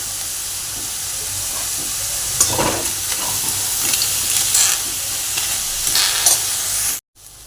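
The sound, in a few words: roasting two large onions in a pan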